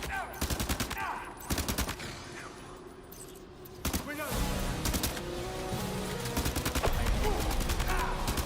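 Automatic rifle fire in the video game Death Stranding 2, sharp bursts of closely spaced shots that break off, then come back into a dense, steady clatter under other game sounds.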